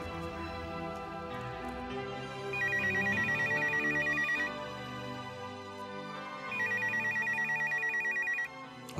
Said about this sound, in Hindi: असफर का फोन है।